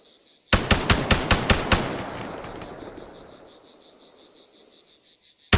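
Arma 3 rapid burst of six or seven close, loud gunshots at an even rhythm, echoing into a long decaying reverb tail over a constant insect-like hiss.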